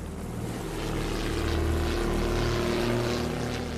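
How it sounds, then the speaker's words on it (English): A WWI German propeller plane drones steadily overhead, its engine and airscrew producing a continuous rough hum that swells slightly toward the middle and stays fairly loud throughout. "It was not long before he spotted the German plane."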